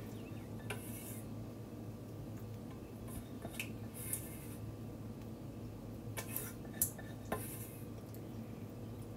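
A spoon spreading cream sauce over moussaka in a dish makes faint, scattered scrapes and light clinks, with quiet background hum between them.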